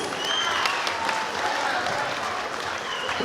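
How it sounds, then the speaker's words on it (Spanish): Wedding guests applaud the couple at a celebration in San Agustín Oapan, a moderate, steady wash of clapping from a crowd, lasting throughout with a few sharper claps poking through. "Fuertes los aplausos para los novios."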